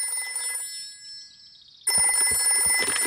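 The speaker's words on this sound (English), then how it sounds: "I'll ring Granny Pig." A cartoon telephone rings with a bright electronic warble, pausing briefly, then a louder burst of ringing returns with clatter underneath.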